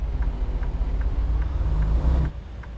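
A brand-new truck in American Truck Simulator drones along a Louisiana road with a steady low engine rumble and road noise, close and loud, with no talking.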